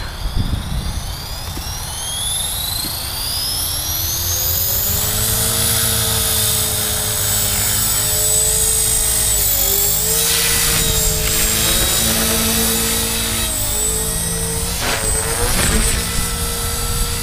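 A Chaos 450PRO radio-controlled helicopter in flight gives a loud, continuous turbine-like whine that climbs in pitch as the rotor spins up, then holds steady with slight wavering and a few gusty swells.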